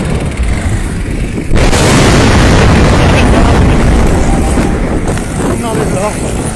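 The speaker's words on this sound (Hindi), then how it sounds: "ये देखें धमाके शाहदरा मोड़ पे।" A fire from an overturned gas tanker at Shahdara Mor in Lahore roars with loud booming blasts, a sudden heavy surge of noise followed by sustained rumbling and crackling, with excited voices over it.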